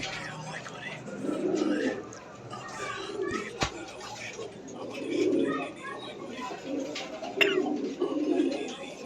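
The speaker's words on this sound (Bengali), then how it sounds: "মাশাল্লাহ, কোয়ালিটি সম্পন্ন কবুতর।" Pigeons kept for sale coo in soft, repeated low bursts nearby, with other bird calls and faint children's voices in the background.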